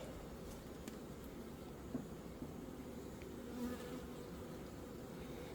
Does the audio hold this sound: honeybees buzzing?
yes